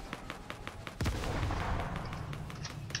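Video game gunfire: a quick run of light rhythmic shots, then a loud boom with a rumbling blast that trails into steady noise.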